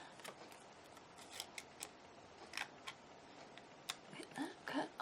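Small scissors snip around a handmade shaker bookmark: quiet, close, irregular crisp snips and light clicks, spaced unevenly and quickening near the end, heard alone in a quiet room.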